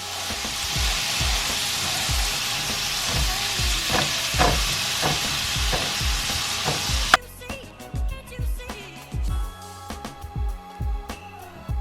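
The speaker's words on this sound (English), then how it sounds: "we are going to start breaking it down and letting it brown" Ground meat browns in a pan with a steady loud sizzle, while a rubber spatula breaks it up in repeated soft scraping strokes. Midway the sizzle drops back and the scraping turns sparser and more irregular.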